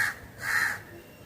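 A crow caws twice near its nest, harsh and fairly close, with a short pause between the calls against quiet surroundings.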